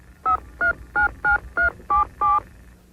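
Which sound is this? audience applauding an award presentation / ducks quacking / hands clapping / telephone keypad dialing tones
telephone keypad dialing tones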